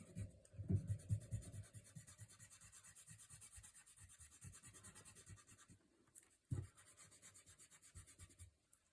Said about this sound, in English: So I'll rub out the pencil lines now.